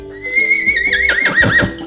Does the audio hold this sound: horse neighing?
yes